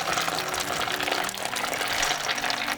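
Boiling water pours in a steady, hissing gush for a few seconds, close and fairly loud, with no talking.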